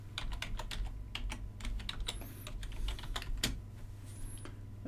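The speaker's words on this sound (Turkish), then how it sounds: "sohbet pencerenize bazı illerin isimlerini yazıyorum" Rapid, light clicking of a computer keyboard as city names are typed into a chat window, coming in uneven bursts of keystrokes. Close and fairly quiet, with no speech.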